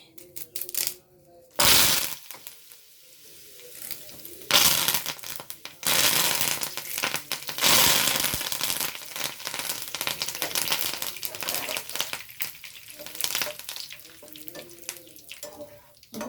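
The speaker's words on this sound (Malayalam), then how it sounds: "ഇനി ഞാൻ കുറച്ച് കരുവേപ്പിൻ്റെ ഇല വറുത്തെടുക്കുന്നുണ്ട്" Curry leaves crackle and spit as they drop into hot oil after frying banana flower pakoda, with sharp loud bursts of sputtering that settle into a fizzing hiss, punctuated by a few more sudden pops.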